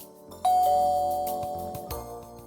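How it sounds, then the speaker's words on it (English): A video game doorbell chimes once with a bright ding-dong, its tone ringing out and slowly fading under soft background music. "That was the doorbell."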